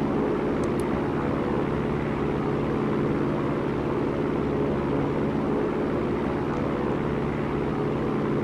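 Steady airplane engine drone inside a home flight simulator during an IFR flight toward an airport near coastal foothills, a continuous loud hum without pauses.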